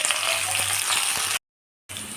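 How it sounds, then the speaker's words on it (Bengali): Chopped onion and potatoes fry in a pan with a steady close sizzle and faint stirring scrapes, cut by a half-second dropout of silence before the frying resumes, with no voices. "কুচিয়ে রাখা পেঁয়াজটা আমি দিয়ে দিলাম দিয়ে লাল লাল করে ভেজে নিয়ে"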